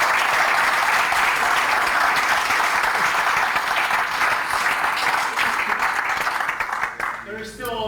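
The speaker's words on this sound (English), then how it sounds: "big round of applause to Baz" Round of applause from a conference audience, dense sustained clapping that carries loud and steady for about seven seconds before thinning out, with a voice emerging at the end.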